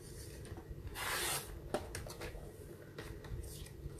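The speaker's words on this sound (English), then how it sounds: "I'm just going to trim a bit more off that" Card stock being trimmed for a handmade pocket card, heard as close rubbing and rasping cuts with a brief scratchy burst and a few soft clicks over quiet room noise.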